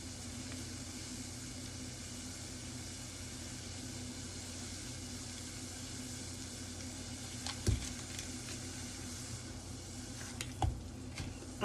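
Butter cooking in a pan gives a faint, steady, hissing sizzle throughout, with a couple of brief soft clicks near the end.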